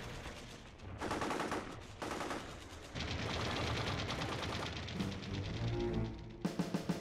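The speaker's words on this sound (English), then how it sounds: "The machine gun would not be introduced into warfare until World War I" Machine gun fire in rapid sustained bursts, a harsh rattling stream of shots broken by short pauses, loud and close with no voices.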